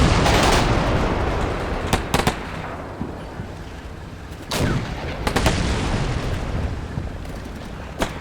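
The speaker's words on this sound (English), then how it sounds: "We've got some pretty good fire going on them right now." Gunfire aimed at an enemy anti-tank gun in the Combat Mission Black Sea wargame, Battle for Kozolets: sharp isolated cracks and bangs, a few close together, over a continuous rumbling din of battle.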